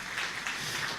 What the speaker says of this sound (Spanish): es un aplauso para Corín